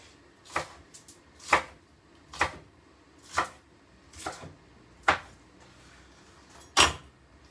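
A knife chops through spring onions on a board to top and tail them, with about seven sharp thuds at an uneven pace, close and clear with no talk.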